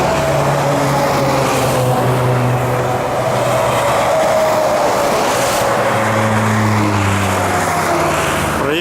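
A car overtaking on a bridge near Izhevsk in winter, its engine roaring steadily and loudly with a rising and falling pitch as it passes close by, heavy traffic rumble underneath, no talking.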